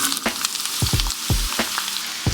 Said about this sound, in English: we're gonna start by sauteing those onions